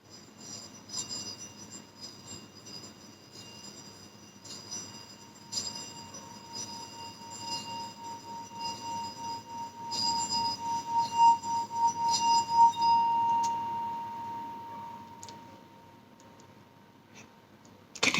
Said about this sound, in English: I place the stick at the edge of the bell, and then I rotate it around the